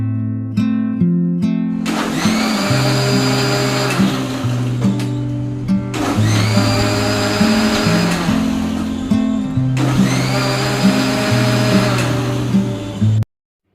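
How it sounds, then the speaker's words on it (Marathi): A kitchen mixer blender whirs loudly in three long pulse bursts, blending lassi with ice, each burst a steady motor roar with a sharp start and stop. "याला आपल्याला पल्स मोडवरती फिरवायचं आहे"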